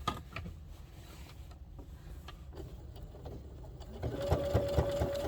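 A sewing machine stitches a seam along apron straps with a steady, fairly quiet mechanical whir that grows louder and more rhythmic toward the end.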